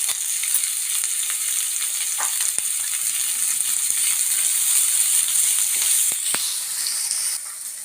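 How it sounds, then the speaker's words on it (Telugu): Onions fry with salt in a pan, giving a steady bright sizzle throughout with a few light clinks and stirring scrapes near the end. "ఉల్లిపాయ తొందరగా వేగాలంటే ఉప్పు వేసుకోవాలి."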